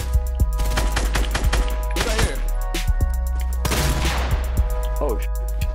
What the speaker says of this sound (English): They're shooting nades,